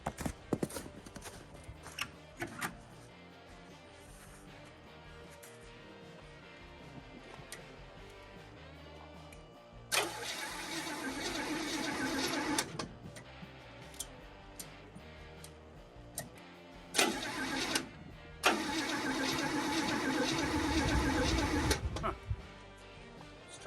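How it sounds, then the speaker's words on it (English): A 1965 Beaumont engine is cranked over in two long, loud churning bursts, separated by quieter stretches of light ticking and handling noise. "let's go ahead and crank it over and see what happens"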